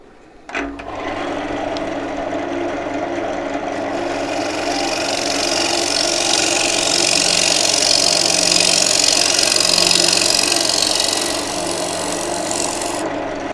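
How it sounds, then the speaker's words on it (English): Walnut bowl spinning on a lathe while a round nose scraper smooths the inside transition to the flat bottom: a loud, close, continuous whirring scrape that holds steady for several seconds with no talking. "I'm going to switch to my round nose scraper just to try and get this transition to the bottom here and the bottom flat"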